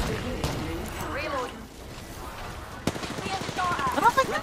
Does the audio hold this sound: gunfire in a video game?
yes